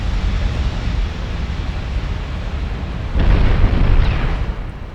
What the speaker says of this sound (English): There we go, more torpedoes hit.